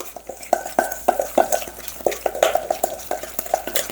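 A spoon mixing tandoori lamb marinade in a bowl makes rapid, close clinks and scraping strokes against the dish, repeating in an uneven rhythm.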